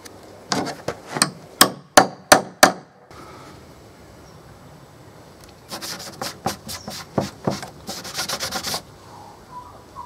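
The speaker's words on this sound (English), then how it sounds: "we're going to need to stamp a few holes" Sharp taps of a hammer on a punch stamping holes in leather for medieval vambraces, two quick bursts of close rhythmic strikes.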